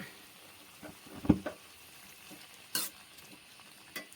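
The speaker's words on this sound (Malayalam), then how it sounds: "നമുക്കിതിനെ ഒന്ന് നല്ലോണം ഇളക്കിയതിന് ശേഷം സ്റ്റൗ ഒന്ന് ഓഫ് ചെയ്യാം" Chicken pieces in coconut oil are stirred in a pan, giving a faint low sizzle with a few distinct scrapes and clacks of a spoon against the metal.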